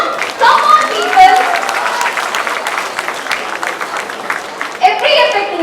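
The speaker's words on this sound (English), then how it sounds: "can we all give a huge round of applause for everyone who made this successful?" A festival audience at a youth event bursts into loud, close applause, a thick crackle of many hands with cheering voices and chatter mixed through it.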